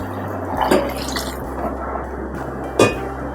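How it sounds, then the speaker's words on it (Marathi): Water goes into a cooking pot holding brown chana and green chilli pieces for soup, heard as a few splashing drips and gurgles over a low kitchen hum, with two sharper pours. "आता हवं तेवढं पाणी घालते."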